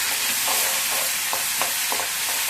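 Masala for egg masala curry sizzles and fries in a pan while being stirred, a steady close crackling hiss with soft scraping strokes of the spoon, no voices.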